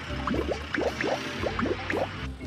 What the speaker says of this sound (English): there's something dripping from his tanker